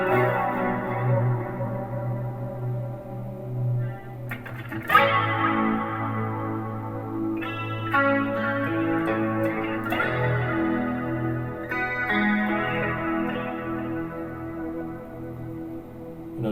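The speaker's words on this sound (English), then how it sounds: "a little bit more delay in this case, and we can probably play with the chorus a bit more." Electric guitar with a clean 80s glam rock tone, distortion removed and chorus and delay added, plays sustained shimmering chords that ring into echoing repeats, loud and alone.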